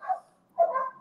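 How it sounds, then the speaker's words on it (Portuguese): Dogs bark nearby in two short bursts separated by a brief pause, fairly loud and with no speech. "tem uma cachorrada aqui latindo"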